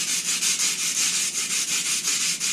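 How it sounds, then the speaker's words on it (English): Sandpaper scrubs back and forth over a carbon arrow shaft to clear old glue, a close, even rasping in quick regular strokes, about a dozen in a couple of seconds, with no one speaking. "Then I'll take some sandpaper,"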